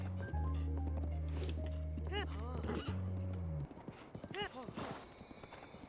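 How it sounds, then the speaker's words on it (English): Horse hooves clip-clop in a steady walking rhythm in a video game, close and clear, with a sustained tonal game note beneath at first and a brief whinny-like cue near the end. "Where are you going, horse?"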